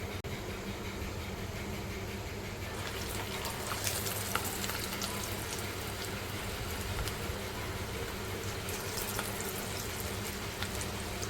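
Potato pakora fries, besan-battered potato sticks, frying in hot oil, giving a steady, dense crackling sizzle that runs the full length at close range, with a few sharper pops and no voices.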